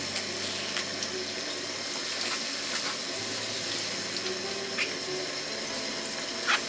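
Tap water running steadily into a sink while new onions are peeled and washed, a continuous close hiss with small splashes and clunks of the onions under the stream.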